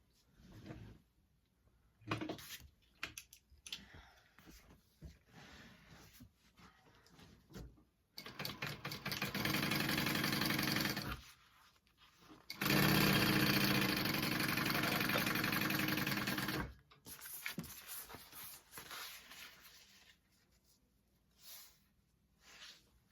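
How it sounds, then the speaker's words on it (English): A sewing machine stitches fabric for a teddy backpack in several bursts: short, stuttering runs, then two longer steady whirring stretches of rapid stitching, close by, with quiet handling noises between them. "I'm going to stitch along the top and I'm going to stitch along the bottom"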